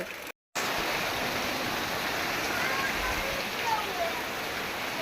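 Heavy rain pours down in a dense, constant roar with no pauses, after a momentary cut of silence at the start.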